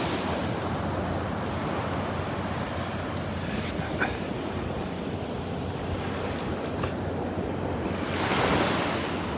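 Surf washes steadily onto a Florida beach in North Naples, a continuous broadband rush with wind buffeting the microphone and a slightly louder wave surge near the end.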